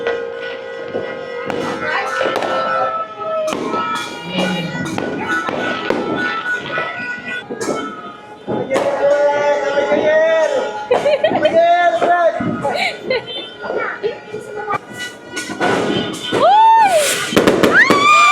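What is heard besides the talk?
fireworks exploding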